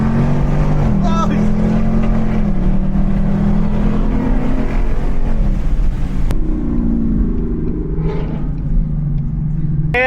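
Deep supercharged V8 of a 1000hp Ford Mustang GT rumbling loud and close, holding a steady low drone with a brief rev, while people talk over it.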